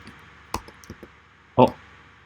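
Several computer keyboard keys are pressed as shortcut combinations while a Java program is being written, giving a few sharp clicks followed by one louder, heavier keystroke, close and clear.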